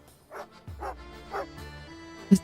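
A dog in the video game Genshin Impact gives three or four short, sharp barks and yips in quick succession, close and clear, with a low game soundscape underneath.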